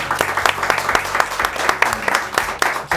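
A studio audience claps steadily in a warm, dense round of applause that fills the room for a few seconds.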